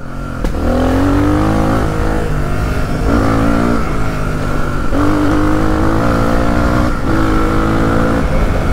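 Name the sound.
enduro motorcycle engine revving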